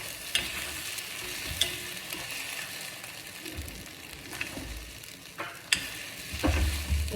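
Egg poriyal sizzles steadily in a pan while a spoon stirs it, with soft scrapes and a few sharper clinks against the metal, fairly quiet and close.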